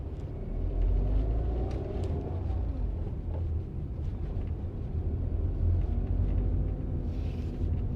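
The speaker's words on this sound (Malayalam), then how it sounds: "ഒന്ന് നമുക്ക് വണ്ടി ഒന്ന് ഓടിച്ചു നോക്കാട്ടാ" Inside a moving 2021 Tata Altroz hatchback, a steady low engine drone and road rumble carry on without a break, with faint tyre and cabin noise and no voices.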